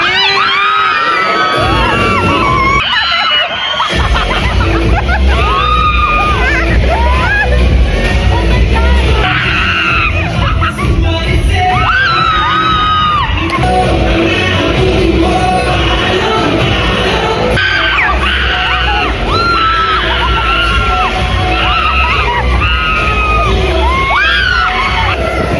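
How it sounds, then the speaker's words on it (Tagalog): A group of people scream, yell and cheer almost without pause at an SB19 VR experience, loud and close, with excited crowd-like shouting filling the whole stretch. "puro sigaw kami"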